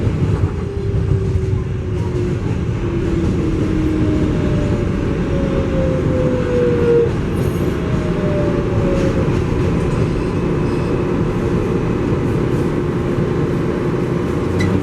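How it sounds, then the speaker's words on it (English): A Flushing Main Street bound MTA 7 local subway train rumbles along steadily at full volume, its continuous low roar broken by faint wheel squeals, with no talk over it. "Flushing Main Street bound 7 local train."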